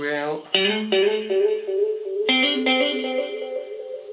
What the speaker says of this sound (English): effect number 4 is what they call up here with a echo sound, with a sophisticated echo effect